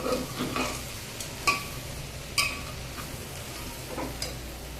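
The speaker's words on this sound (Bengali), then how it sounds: "নিচে যাতে লেগে না যায়, খুব ভালো করে ভাজতে হবে" Vegetables, rice and lentils for khichuri stir-fried in a pan, with a faint frying hiss and several light spoon taps and scrapes against the pan, quiet and close, with no talking.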